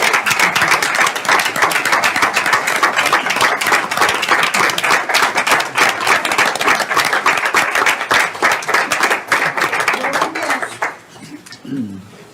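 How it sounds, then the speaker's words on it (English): Sustained clapping from attendees at a city council work session for departing staff, dense and close, lasting about eleven seconds before dying away into voices. "claps."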